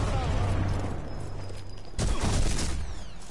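Sniper Elite 4 gameplay gunfire: a low rumbling burst early, then a sharper, louder crack of shots about two-thirds through, set against continuous background game noise.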